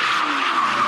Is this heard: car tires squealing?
yes